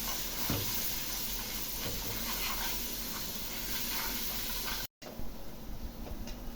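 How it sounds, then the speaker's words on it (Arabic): Crushed garlic and coriander frying in ghee for taro, a steady close hiss and sizzle that runs unbroken, then briefly cuts out and resumes. "انا بحب اعمل طشه للقلقاس"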